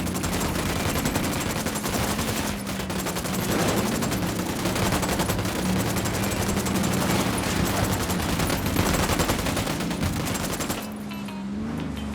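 Heavy sustained automatic gunfire in Ghost Recon Wildlands, rapid overlapping bursts forming a loud, continuous fusillade for nearly the whole stretch before easing slightly at the end.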